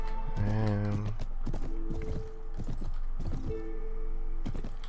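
Horse hooves clip-clop at a walk in the Mount & Blade Warband video game, with a short whinny at the start and soft rhythmic hoofbeats beneath someone talking.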